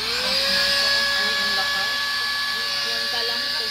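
A 5-in-1 hot hair styler with its blower attachment fitted runs steadily and loudly throughout, giving a continuous high whine with a slight rising pitch at the start and no break.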